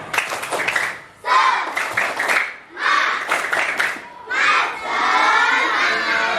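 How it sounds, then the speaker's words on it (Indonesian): Children in a classroom shout and cheer in rhythmic bursts, with clapping mixed in, loud and close, in four energetic waves with short pauses between. "yuk berikan tepuk tangannya"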